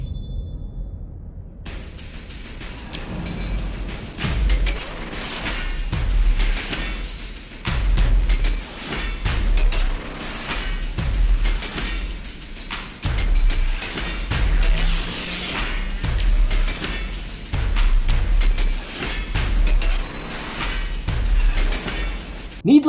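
Intense gameplay from the rhythm game Thumper, where a metal beetle slams along a track: heavy pounding bass hits repeat rhythmically under dense, loud crashing and whooshing music throughout.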